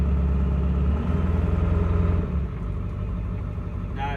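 A diesel pickup truck with an 8-inch smoke stack, driving with the windows closed: a loud, deep engine drone that pulses and throbs, then eases into a lower, steadier rumble.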